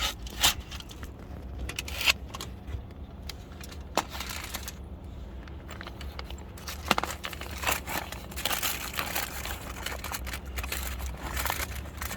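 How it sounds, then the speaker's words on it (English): Aluminum foil crinkling and scraping as it is wrapped around a Hot Logic portable oven, with irregular crackles and rustles close by over a low rumbling background hum, no talking. "We're going to go ahead and wrap this thing with some aluminum foil and put it in its place"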